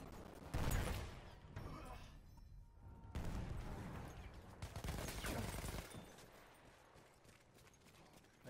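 Light machine gun fired from the hip at close quarters in Battlefield, loud bursts of gunfire with sharp impacts, a second volley after a short lull, then fading into quieter game ambience.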